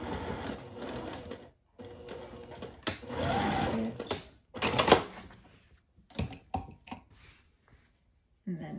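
Short, close bursts of sewing machine stitching on a sundress, with pauses and clicks between runs as the fabric is adjusted.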